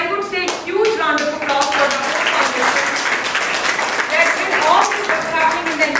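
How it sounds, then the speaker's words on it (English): An audience claps at a foundation event, a sustained, dense round of applause close and loud, with talk mixed in early before the clapping fills in. "And I would say huge round of applause for the whole foundation."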